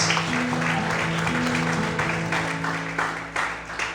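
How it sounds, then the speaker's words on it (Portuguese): Church congregation clapping loudly and steadily during a worship service, with sustained organ or keyboard tones running beneath the dense applause. "Mais forte as palmas"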